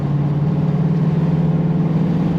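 Ford Mustang GT 5.0 V8 with 450 hp running on a road drive, a steady deep low engine drone heard from inside the car, continuous and even without revving.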